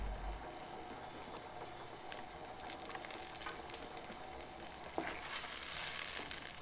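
Kung pao chicken sauce stirred in a frying pan, giving a steady, fairly quiet sizzle with occasional scraping of the spoon against the pan.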